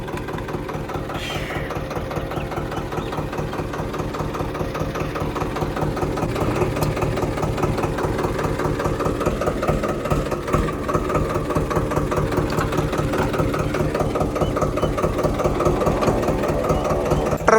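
A farm tractor engine catches on the third attempt and settles into a steady rhythmic idle, a loud close chugging that grows slightly louder and stays continuous with no talk.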